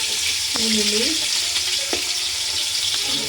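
Onions fry in hot oil for biryani, a loud, close sizzle broken by a few spoon scrapes and clinks against the pot.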